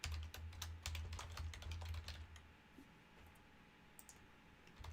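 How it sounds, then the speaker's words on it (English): Rapid typing on a computer keyboard close by, a quick run of clicking keystrokes that slows into scattered, fainter taps toward the end. "I'll type that in here."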